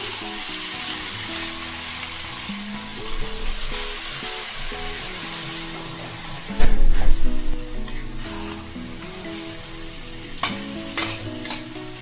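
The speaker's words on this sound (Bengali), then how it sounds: "মশলার সঙ্গে এঁচোড়টা কষে গেছে, এখন আমি সামান্য জল দিয়ে দেবো।" Jackfruit and spices frying in a pan, sizzling steadily under stirring, then a loud burst of hissing as a little water hits the hot pan, with further scraping and clinks afterward.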